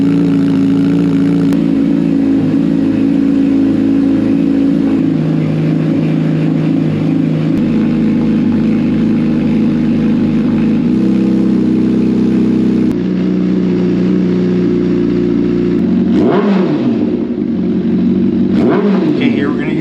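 A 2023 Honda CBR1000RR sport motorcycle engine runs loud and close at a steady idle, then revs up sharply in a couple of quick bursts near the end.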